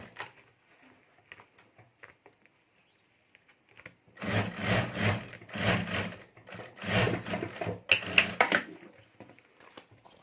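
A sewing machine stitches the lining of a handmade clutch bag in several loud, rapid bursts separated by brief pauses, with faint handling noises beforehand.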